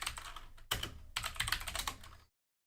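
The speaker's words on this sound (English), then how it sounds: "I love this keyboard, by the way. You hear that thing? Snap, snap, snap." Rapid, crisp clicking of keys on a computer keyboard, close and fairly loud, in two dense bursts separated by a brief pause before stopping abruptly.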